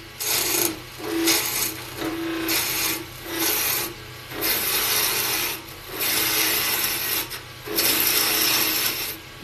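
Skew chisel cutting the ends of a spinning wooden dowel on a lathe, repeated rasping scraping strokes of about a second each separated by short pauses under a steady motor hum, close and clear, no talk.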